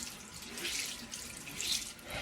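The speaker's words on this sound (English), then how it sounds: "We're just gonna run it underwater and you squeeze it." Tap water runs steadily into a sink over a makeup sponge, a continuous splashing hiss that swells and dips briefly as the sponge is moved and squeezed under the stream.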